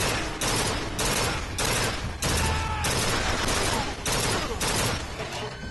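Sustained heavy gunfire in Bioshock Infinite rattles in long, loud automatic bursts with brief gaps between them, close and filling the whole stretch.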